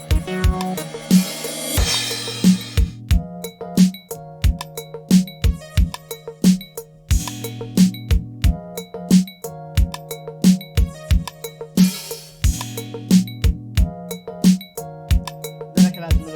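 A reversed cymbal swelling up and cutting into a crash cymbal, repeated several times over a steady electronic beat with bass and kick.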